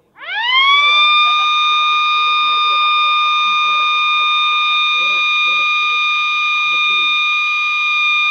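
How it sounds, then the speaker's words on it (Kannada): A solar-powered bird scarer at a farm fair emits a loud siren that swoops up at the start and then holds a steady, piercing tone, with faint speech murmuring underneath. "ಒಂದು ತಟ್ಟೆ ಶಬ್ದ ಮತ್ತು ಸೈರನ್ ಶಬ್ದ ಮತ್ತು ಅದು ಸ್ಪೀಕರ್."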